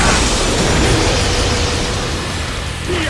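Galaxian Explosion attack from a Saint Seiya fighting game, a loud, dense roaring blast of broadband noise that sustains for about three seconds and fades slightly at the end.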